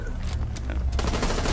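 Rapid bursts of gunfire from the video game Rainbow Six Siege crackle in quick succession, a dense, continuous volley of shots close up.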